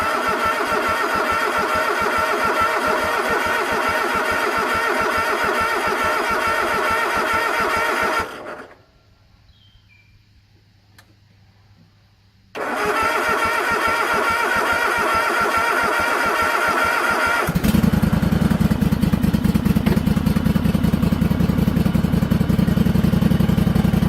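Small engine catches after the choke is pulled with the parking brake set, running steadily and fairly loud, cutting out briefly and then restarting with a stronger, deeper idle.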